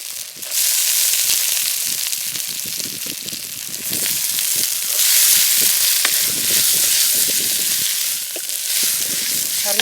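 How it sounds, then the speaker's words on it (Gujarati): Brinjal and potato pieces hit hot tempering oil for a Kathiyawadi vegetable curry, setting off a loud, steady close sizzle that starts after a brief pause and crackles on without letup. "તો આપણે હવે નાખી દઈશું રીંગણા બટેકા છે એ।"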